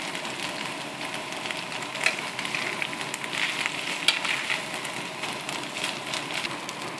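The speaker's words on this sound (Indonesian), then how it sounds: "kemudian kita aduk soun ini bersama dengan bahan-bahan lainnya yang telah masak" Glass noodles are stirred in a hot pan with cooked filling ingredients for pastel, giving a steady close sizzle with a few louder scraping or tossing accents and no voices.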